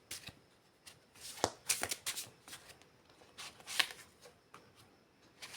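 Tarot cards being shuffled by hand, with soft riffling and sharp slapping clicks coming in irregular bursts, close and fairly quiet with no voice.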